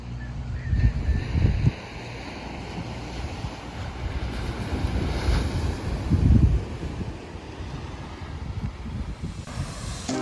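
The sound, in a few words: waves on a rocky beach in Bermuda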